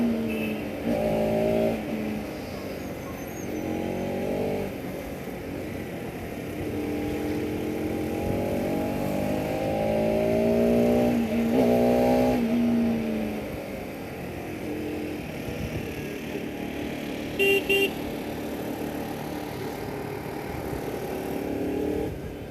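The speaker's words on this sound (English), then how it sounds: "you should rev it beyond 6000 RPM to get the actual power" A Bajaj Pulsar RS 200 motorcycle revs hard and close, its exhaust note climbing and falling through several long throttle blips over a steady idle, with no voices.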